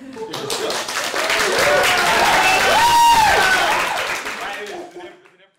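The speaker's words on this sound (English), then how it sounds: "Y'all keep clapping after every word I said." Audience at a comedy society event clapping and cheering, swelling to a loud peak midway then fading out, with a voice calling out over the crowd noise.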